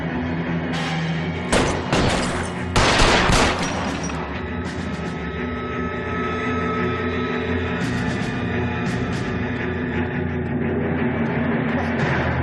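Gunfire in the video game L.A. Noire comes as a flurry of sharp shots and bursts early on, then gives way to a dense, steady layer of game noise and music.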